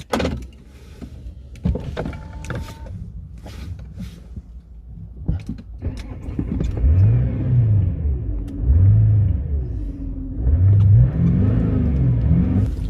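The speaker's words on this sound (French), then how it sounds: "Mais non, démarrage sans clé." Clicks and a few handling noises, then an Audi A8 D3 starts by keyless ignition and settles into a rumbling idle, revved several times in rising, falling swells nearby.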